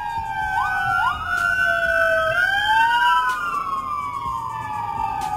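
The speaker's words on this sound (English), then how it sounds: "siren's pretty loud" A loud wailing siren sweeps up and down in pitch nearby, with layered tones overlapping as the emergency vehicle passes.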